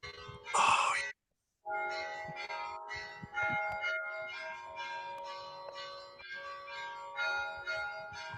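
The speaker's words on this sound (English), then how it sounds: "The bells. oh wow." Church bells next door ring in a steady, resonant peal with overlapping tones that sustain and decay, following a brief loud burst at the start.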